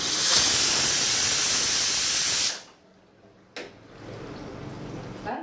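A pressure cooker whistle vents steam with a loud, steady hiss for about two and a half seconds while soya chunks pulao cooks on a high gas flame, then cuts off, leaving a quieter sputter and low residual hiss.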